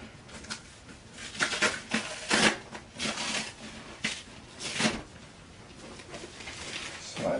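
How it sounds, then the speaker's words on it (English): Plastic wrap being torn and peeled off a boxed 21-inch 2011 iMac, close by, in irregular crinkly, rustling bursts with squeaky scrapes and brief pauses. "And now we can go ahead and unwrap this thing."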